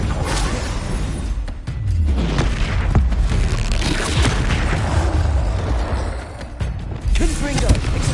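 A Confringo spell explosion in the Hogwarts Legacy video game booms loud and continuous amid magical combat, with a deep rumbling blast and swishing effects filling the whole stretch.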